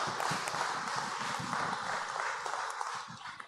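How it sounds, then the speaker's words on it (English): Church congregation applauding third graders and their parents during a worship service, a steady wash of many hands clapping at moderate loudness, continuous for several seconds without talk. "let's give them some applause"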